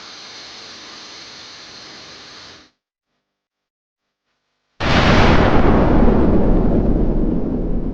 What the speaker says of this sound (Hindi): वॉल्केनो अपने आप फट गया।